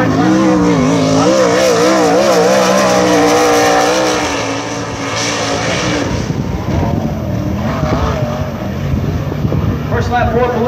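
Sprint car on a USAC qualifying lap at the Terre Haute Action Track, its loud engine roaring steadily and shifting pitch as it circles the half-mile dirt oval, with an announcer talking over it.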